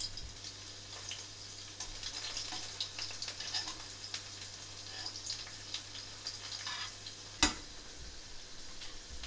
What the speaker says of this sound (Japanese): だんだんふつふつしてきますので、そしたら火を弱めてあげてください。